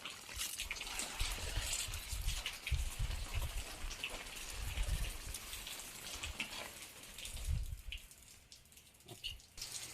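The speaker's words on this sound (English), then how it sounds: "I just connected the water pipe and it is just sprinkling" An IGNITO 360° garden sprinkler sprays steadily, a continuous hiss of water droplets pattering on leaves and ground, with no talking.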